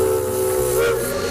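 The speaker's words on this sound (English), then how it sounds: "Campers are greeted with a train whistle in a town that is circa 1880." Steam train whistle at the Henry Cowell park railroad near Santa Cruz, California, sounds as a loud, sustained, breathy blast over hissing steam and rolling rail noise.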